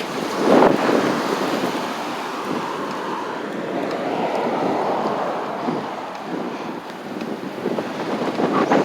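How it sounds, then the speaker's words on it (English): Strong wind buffeting the microphone while riding a bike on the Bay Trail, a loud continuous rumbling roar that swells and eases in gusts throughout, with no talking. "Boy, this wind this morning."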